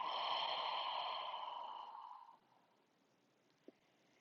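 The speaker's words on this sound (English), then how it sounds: "we take a breath in and breathe out" A slow, soft breath drawn in and let out during a gentle post-gardening stretching routine, a long airy exhale fading over about two seconds, followed by near silence and one faint tap.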